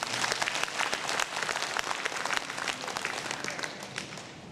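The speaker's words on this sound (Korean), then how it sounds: "유수하신 분들 박수 한번 보내주시죠." Sustained applause from an audience at a Korean civic ceremony in Gwangmyeong, many hands clapping in a busy, even wash that tapers slightly toward the end.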